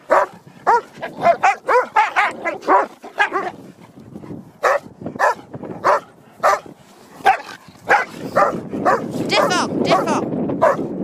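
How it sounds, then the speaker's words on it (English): A Belgian Shepherd Groenendael barks repeatedly in sharp bursts during a training session, some yips and whines mixed in, with people talking nearby throughout. "she's been barking at me"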